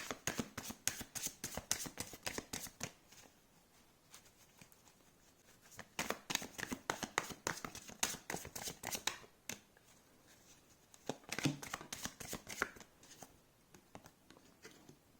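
Tarot cards being shuffled by hand, a crisp, close riffling patter that comes in repeated bursts with short pauses, quiet and with no talking.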